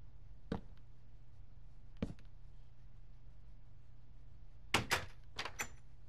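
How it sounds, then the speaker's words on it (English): Dark oak doors being placed in Minecraft, several short wooden clunks spaced apart, the last ones coming in a quick cluster over a faint background hum. "you want to place a dark oak door in it"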